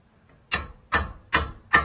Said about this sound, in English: And I might use my hammer